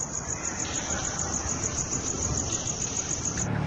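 Crickets chirp in a steady, rapid high-pitched pulse that runs unbroken over a soft background hiss.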